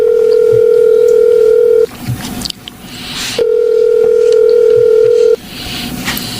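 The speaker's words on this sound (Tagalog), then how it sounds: "Tatawagan kong number na nag-text sa kanya." A telephone call is placed: two long, loud ringback tones sound from the handset, separated by a short gap of faint background noise, close and clear with no speech.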